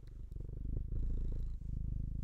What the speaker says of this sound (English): if you want to come up here and purr for everybody